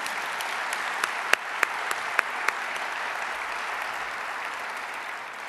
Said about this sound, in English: Will you please join me in a round of applause for Drs. Harrington, Selke